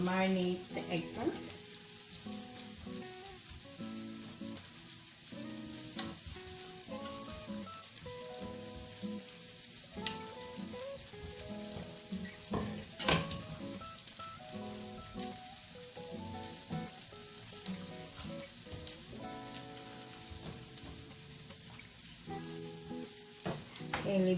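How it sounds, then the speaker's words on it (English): Chopped onions sizzle steadily in a hot frying pan during home cooking of Filipino tortang talong, a dense crackling hiss lasting throughout, with a utensil scraping and stirring now and then and faint music or voices in the background. "while we're still cooking our onions"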